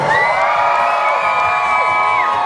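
A roller derby crowd cheering and whooping loudly and continuously, with high shouts and children's voices over a dense wall of noise in an indoor arena.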